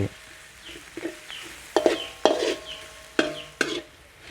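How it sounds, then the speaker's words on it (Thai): Coriander roots simmer and fry in a pan over low heat, heard as soft sizzling with a string of sharp clinks and scrapes from stirring, close and clear with no talking. "รากผักชีใส่ไป เคี่ยว ไป เรื่อยๆจนหอมเลย ไฟไม่ต้องแรงมากเดี๋ยวจะไหม้"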